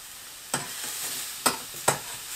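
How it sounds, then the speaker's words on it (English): Mushrooms fry slowly in an Outbound stainless steel frying pan, a soft steady sizzle broken by three distinct scraping stirs. "Those mushrooms are cooking just nice and slow."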